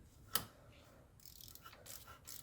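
A ratchet wrench clicks as it tightens timing cover bolts on an Audi A4 2.0T, one sharp click followed by faint, quick ratcheting, close and quiet.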